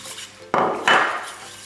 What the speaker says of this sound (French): j'ajoute mon sucre semoule